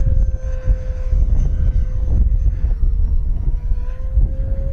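An E-flite F-4 Phantom II 80mm electric ducted-fan RC jet flies past over a grass runway with a loud, steady whooshing roar and a high whine that shifts slightly in pitch.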